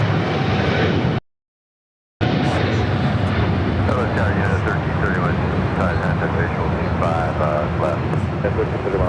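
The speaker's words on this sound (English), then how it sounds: "China Eastern Airlines 586 taking off to Shanghai on this 777-300ER." A China Eastern Airlines Boeing 777-300ER takes off at LAX with a broad, steady engine roar, briefly cut to silence, then continuing under radio chatter and nearby voices.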